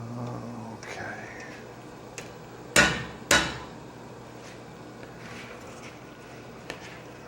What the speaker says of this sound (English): We'll hammer those out.